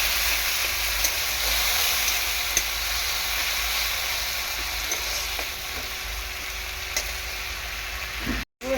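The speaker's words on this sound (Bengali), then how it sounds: "সামান্য একটুখানি জল দেবো।" Spices frying with grated ginger and green chilli in a pan sizzle steadily and fairly loudly after a splash of water, a continuous bright hiss running throughout with faint stirring clicks.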